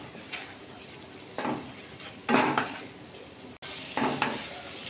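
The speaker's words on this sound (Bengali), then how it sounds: "ভালো করে মিশিয়ে নেব" Chicken being mixed with turmeric and spices in a hot pan, a soft sizzle under several scraping stirs of a spoon against the metal, each stroke rising and fading, with no talk.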